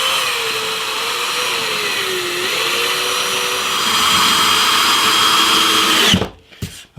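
A power screwdriver drives screws through the top of a wooden acoustic guitar jig template, giving a loud, steady motor whine with a slight pitch dip midway before it cuts off abruptly near the end.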